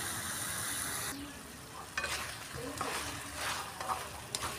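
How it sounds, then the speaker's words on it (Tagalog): Chicken and pork sizzling in a frying pan for afritada, with a steady fry hiss and several sharp clinks and scrapes of a spatula stirring the meat, close and fairly loud, no talking. "Ayan, igisa ng maigi."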